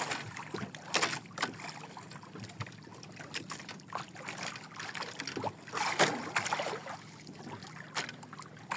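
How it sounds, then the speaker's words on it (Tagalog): Water slaps and sloshes irregularly against a small boat's hull, uneven knocks and splashes rising and falling, with no voices. "Medyo magalaw yung bangka kay maalon."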